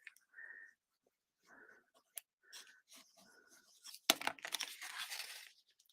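Tape is torn off in several short rasping bursts, faint and close, ending in a longer crinkly ripping stretch.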